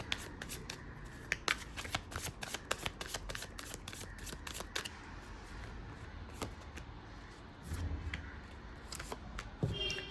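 Tarot cards being shuffled by hand, a rapid run of crisp riffling snaps and soft slides close up, busy at first and easing into quieter shuffling with a brief handling rustle near the end.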